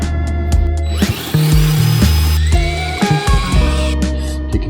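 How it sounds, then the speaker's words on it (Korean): Power drill boring a hole into a workshop wall that has concrete behind it, revving up and down in close, loud whirring bursts with grinding and shifting motor pitch, with no talking. "자, 한번 뚫어 볼게요."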